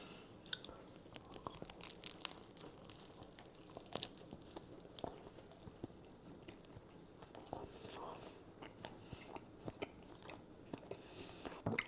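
Someone bites and chews a Tesco Finest salt beef sandwich with mustard and gherkin relish, close up, with soft crunches and repeated wet chewing sounds in an irregular rhythm throughout.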